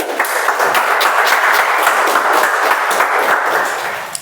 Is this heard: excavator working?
no